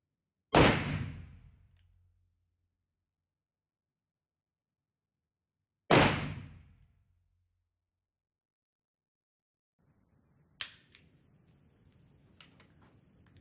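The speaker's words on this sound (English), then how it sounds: "I actually quite enjoyed shooting that" Two heavyweight revolver shots ring out several seconds apart, each a sharp, loud blast with a short decaying tail, followed by faint metallic clicks and handling noise.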